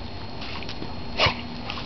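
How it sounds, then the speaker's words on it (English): A single short dog bark sounds over a steady background hiss, moderately close and otherwise quiet. "What makes him bark?"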